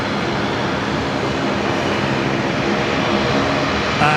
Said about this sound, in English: Qantas 546, just about to touch down from Sydney here